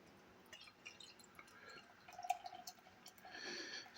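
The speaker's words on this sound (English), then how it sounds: "bring it round and get it poured" Madri lager poured from a 660ml bottle into a glass, a faint close liquid trickle with scattered drips that thickens into a steadier pour near the end.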